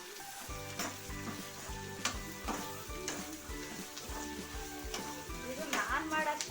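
Onions frying in oil with salt sizzle steadily, broken by regular scraping clicks of stirring in the pan, close up, with a voice talking over the cooking.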